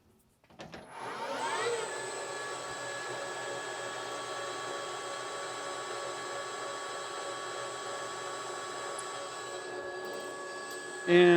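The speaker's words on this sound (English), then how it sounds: "So I'm going to use a center drill to kind of get our center established here." A PM-1440GT-VS variable-speed metal lathe spins up and runs at a steady, whining hum while a center drill bores a starting hole, the tone holding constant and close before a brief louder burst at the end.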